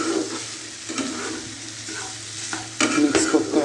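Carrot, green chili and capsicum fry in a pan for lemon chicken soup, giving a continuous close sizzle with scraping stir strokes that grow louder toward the end.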